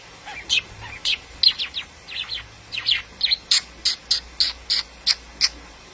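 A pet bird chirps in a quick series of short, bright, high tweets that repeat at a steady rhythm, sounding close and clear over a quiet room.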